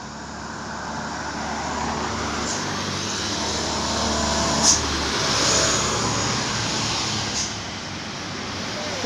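Busy roadway traffic with trucks and box vans overtaking, a steady broadband roar of passing vehicles with a couple of brief louder swells as they go by, and a voice speaking faintly over it.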